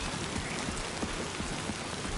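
Rain pours steadily in Death Stranding II, a thick continuous hiss of drops striking surfaces with light scattered patter, loud and unbroken, no talking.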